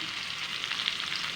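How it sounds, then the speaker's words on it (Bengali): Onion and garlic fry in a pan with a steady, close sizzle that holds at an even level throughout, with no talking. "পেঁয়াজ রসুন দিয়েছি।"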